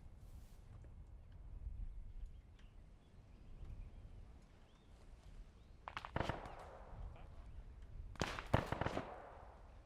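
Gunfire in an Arma 3 World War II battle: a few sharp shots crack some distance away after a quiet stretch, and a tighter cluster of bursts follows near the end.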